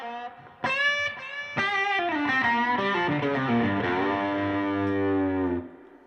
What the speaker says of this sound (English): Occasionally what I'll do is I'll hit a delay on, like either a slapback or a longer delay over here.